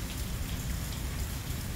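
Steady rain after a storm with strong winds, a soft, even hiss of drops falling on surfaces, continuous and fairly faint.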